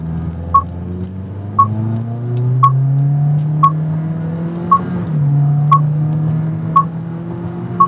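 A 2017 Toyota Corolla in sport mode accelerates from 0 to 60 mph with paddle-shifted gears. The engine drone climbs in pitch, steps down between shifts, and rises again, while a steady beep chimes about once a second.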